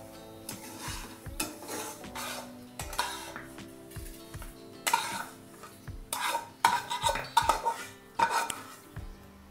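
Semolina being dry-roasted in a pan for shira, a spoon scraping and stirring in irregular strokes that build into several sharp metallic scrapes and knocks, close, with no talk.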